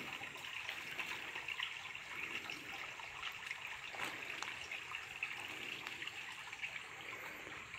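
Clear water flows in a stream on a rural farm property in Maranhão, Brazil, giving a faint, steady trickling rush that continues unbroken with no voices.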